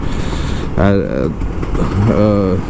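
Kawasaki Ninja RR 150 two-stroke motorcycle revving in Jakarta traffic, two quick throttle blips with rising engine whine over a low idling rumble.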